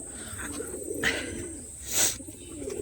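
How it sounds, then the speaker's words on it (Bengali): Loft pigeons, red Mushki hens among them, pecking at grit and cooing softly, with a couple of brief sharper calls and chirps over a quiet background. "তো এই দেখুন গ্রিড খাচ্ছে সব পায়রাই"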